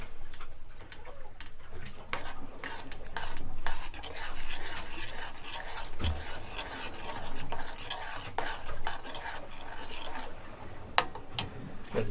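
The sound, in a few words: stirring food in a pot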